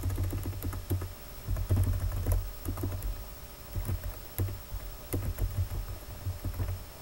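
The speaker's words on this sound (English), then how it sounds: "And I type in my username here." Keys clatter on a computer keyboard while a username is typed in, a fast, uneven run of light clicks close by with brief pauses, no voices.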